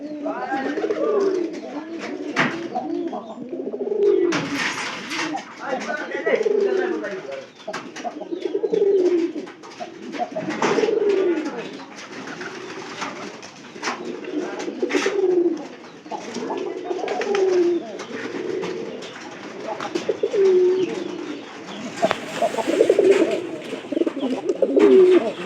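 Pigeons in a coop give a steady series of throaty coos at regular intervals, near and clear, with occasional speech and wing rustles mixed in.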